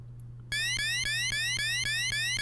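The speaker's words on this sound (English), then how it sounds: "the Wily capsule beeping here is annoying" Dr. Wily's capsule in a Mega Man video game emits a rapid, repeating electronic beeping alarm, a loud, harsh pulsing tone that starts abruptly after a brief quiet moment and cycles steadily.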